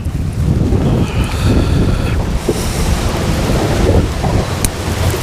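Heavy wind buffeting an outdoor microphone while fishing below a dam, a constant loud low rumble and roar that fills the whole clip with no let-up.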